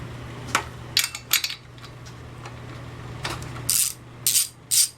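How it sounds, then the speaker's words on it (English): A 3/4 socket ratchet works a spark plug loose from a Homelite SX-135 chainsaw, giving a handful of short metallic clicks and clanks spaced irregularly, close up, over a steady low hum, with no talking. "Let's see if we can get the spark plug out of here and check for spark."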